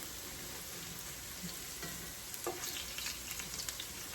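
Potato latkes fry in hot oil with a steady, fairly quiet hiss and crackle, scattered pops and spatters breaking through toward the end, and no voices.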